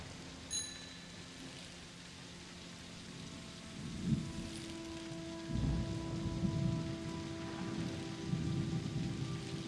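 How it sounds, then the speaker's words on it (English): Rain pouring down in a cozy video game, a constant hiss of drops on surfaces with low rumbling swells building midway, while faint tonal game sounds hum beneath. "Am I not gonna get any shelter from this rain?"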